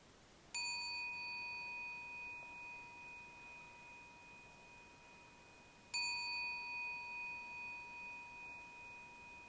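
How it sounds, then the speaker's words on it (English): A meditation gong struck twice, about five seconds apart, each stroke a clear ringing tone that hangs and slowly fades in a quiet room with no talking. "I'm now going to ring the gong 3 times"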